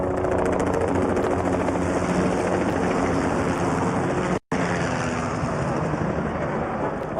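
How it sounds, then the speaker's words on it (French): Two Bell 505 helicopters fly past in formation at an air show parade, a loud continuous rotor and turbine roar that fills the whole stretch apart from one brief dropout. "Donc on a la formation Malo avec 2 hélicoptères Bell 505"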